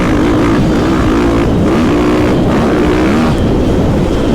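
A 2022 Husqvarna FC450 Factory Edition motocross bike runs a lap, its four-stroke engine a loud continuous rasp heard close up, rising and falling in pitch as the rider works the throttle.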